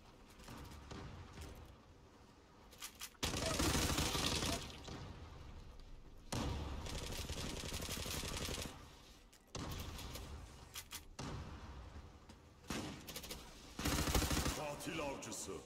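Automatic gunfire in the Zula online shooter comes in several long, loud bursts separated by quieter stretches of game sound, with a voice faintly present.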